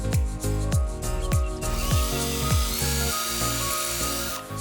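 Power drill boring into wood while building a TV stand, loud repeated whirring bursts that wind up and down in a rapid rhythm, close and with no talking.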